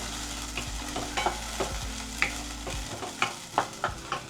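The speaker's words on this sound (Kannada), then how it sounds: "ಲೋ ಸಿಮ್ಮಲ್ಲಿ ಇಟ್ಕೊಂಡು ಕಲಿಸ್ಕೊಳ್ಳಿ. ಅದು ಚೆನ್ನಾಗಿ ಫ್ರೈ ಆಗಲಿ ಸ್ವಲ್ಪ." Jackfruit sajjige mixture stirred and frying over a low flame, with a soft steady sizzle under scattered scraping taps of the spoon against the pan, close and fairly quiet, with no talking.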